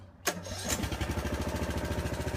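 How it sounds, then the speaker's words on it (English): A small engine on a foundation wall-jacking machine, used to lift a bowed brick wall, cranks and catches with a sharp start, then settles into a steady, rhythmic chugging idle close by. "Now what we're going to do is crank our machine and see if we can jack this wall up"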